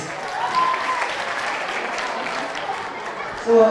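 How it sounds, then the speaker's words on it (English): Steady applause from an audience at a school opening ceremony, a dense, even patter that carries on throughout with a few voices mixed in and a louder swell near the end. "Everyone, big round of applause."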